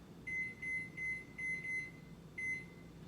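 An oven timer set while baking a pumpkin roll beeps in a steady series of six short, high electronic tones over faint background hum, with no talking.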